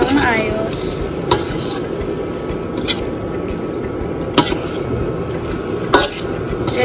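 Pork with soy sauce being stirred in a pan for menudo, with a soft continuous sizzle under wet squishing and sharp utensil knocks against the pan at about 1.3, 4.4 and 6 seconds.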